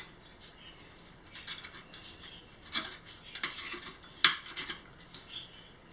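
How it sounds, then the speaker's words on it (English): A pizza cutter slicing bacon for a tomato, onion, pepper, bacon and cheese omelet gives scattered light clicks and scrapes against the board, with one sharper tap near the end and no talking. "Get out the pizza cutter and make little bacon slices."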